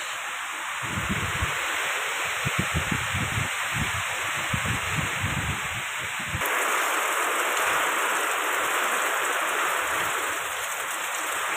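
Strong wind and rain outdoors in an Assam village, a dense continuous roar of rushing air and falling water with gusty low rumbles, loud and close, no voices.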